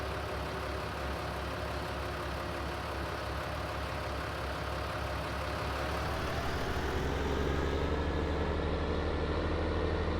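A small tractor in Farming Simulator 19 labours steadily while pulling a heavy cultivator, its low engine drone continuous and fairly loud, rising slightly in pitch and intensity near the end.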